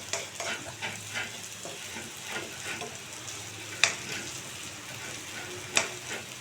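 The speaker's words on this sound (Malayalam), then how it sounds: "ഞാൻ ഇനിയിപ്പോൾ ഇതിലേക്ക് ഉപ്പ് ആഡ് ചെയ്തിട്ട് നല്ല ഹൈ ഹീറ്റിലാട്ടോ ഞാനിത് ഫ്രൈ ചെയ്യണത്." Bitter gourd frying with salt over high heat, a soft continuous sizzle broken by gentle stirring scrapes and two sharp utensil clicks, quiet and close, no voices.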